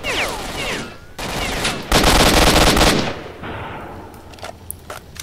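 Gunfire in Stalker: Shadow of Chernobyl, loud bursts of automatic rifle fire in sustained volleys with brief gaps, the heaviest burst near the middle, fading to scattered shots.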